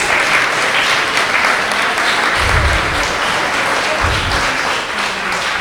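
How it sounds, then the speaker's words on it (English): At a community meeting held in a public housing garden space, a crowd claps for its hosts. The applause is loud and continuous, a dense wash of hand claps across the whole stretch. "Let's have a round of applause for our hosts,"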